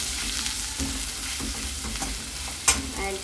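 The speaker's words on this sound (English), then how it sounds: "add the onion also, and saute the onion" Onion sauteing in a pan with green chilli, dal and curry leaves, a steady close sizzle and frying hiss with occasional stirring scrapes and a sharp clink near the end, no voices.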